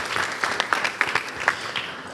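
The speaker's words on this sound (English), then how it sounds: "Please give them a round of applause as well." A conference audience claps in a brief, light round of applause, with scattered distinct claps close by.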